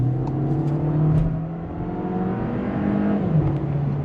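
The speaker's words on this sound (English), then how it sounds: "you can hear the little turbos going crazy" A 2024 Volkswagen Taos accelerates hard with its small turbos spooling, a steady close engine drone with a faint whir on top that swells and eases slightly, with no one talking.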